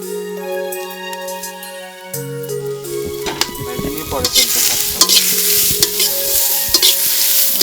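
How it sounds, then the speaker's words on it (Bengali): Chopped onion and green chili pieces dry-fry in an oil-free wok, loud scraping and clattering stirring building into sizzle over a background of sustained musical tones. "তেলবিহীন কড়াইয়ে প্রথমে পেঁয়াজ কুচি পরে কাঁচামরিচের টুকরো"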